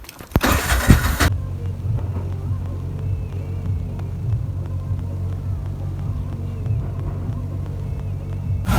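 An auto rickshaw engine runs steadily while driving, a constant low rumbling drone with road noise, preceded by a brief burst of loud broadband noise at the start.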